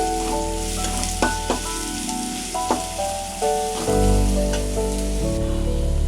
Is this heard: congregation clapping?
no